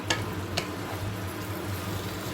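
Hot water is poured into a spice mix in a hot pan for a paneer recipe, giving a steady sizzle and bubbling with two small clicks early on, close and without talk.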